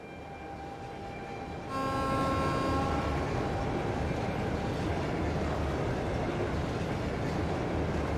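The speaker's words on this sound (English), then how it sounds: "high-speed train crossing." A high-speed train crosses in the video game Trails of Cold Steel 2, a steady low rushing roar that starts after a tonal chime and holds loud and continuous.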